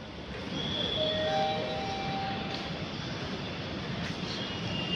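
A metro train arriving at a platform rumbles steadily with a broad roar and faint high squeals, continuous and fairly close, with no talking.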